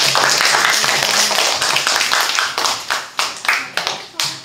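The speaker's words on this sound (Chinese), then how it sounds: "来宾，请掌声鼓励鼓励。" A class graduation concert audience applauds, dense clapping near and loud at first, then thinning into separate sharp claps toward the end.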